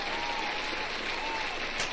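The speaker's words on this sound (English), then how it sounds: "I didn't expect the applause" Applause from an audience during a live stream, a steady wash of clapping that holds evenly throughout, moderately loud and without talk.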